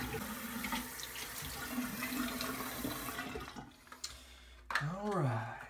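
Water from a tap runs and splashes into a sink as someone rinses off after a shave, steady and close, and it cuts away near the end into a brief, different rising sound.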